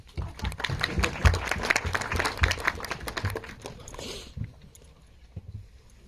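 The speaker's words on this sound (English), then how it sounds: "give her a huge round of applause" Modest applause from a small audience at a classroom presentation, for the teacher, with individual claps distinct and fairly close; it builds briefly, then thins out and fades after about four seconds.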